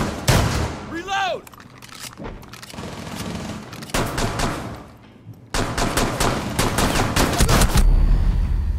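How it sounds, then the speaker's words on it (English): A mounted LMG in Rainbow Six Siege hammers out loud rapid automatic bursts broken by short pauses. A voice calls out over the firing. "LMG, mounted and loaded."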